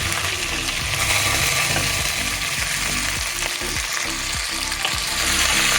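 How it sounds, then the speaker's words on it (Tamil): Onions, garlic and curry leaves for a Tamil fish curry sauté in a pan with a steady loud sizzle, broken by repeated scraping and clicking strokes as they are stirred. "நல்லா வதக்கிக்கலாம்."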